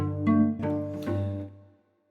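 Handmade violin by maker Alejandro Puig, bowed in a short phrase of a few sustained notes that shift pitch, played close and alone before fading to silence.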